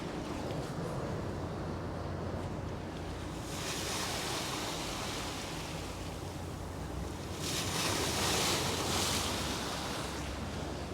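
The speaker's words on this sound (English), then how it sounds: "Boat's bringing in a few waves now." Wake waves from a passing boat wash against the shore of Sydney Harbour, a steady surf roar with breeze buffeting the microphone and a swell of louder wash toward the end.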